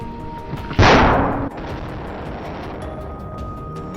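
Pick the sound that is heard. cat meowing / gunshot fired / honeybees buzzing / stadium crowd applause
gunshot fired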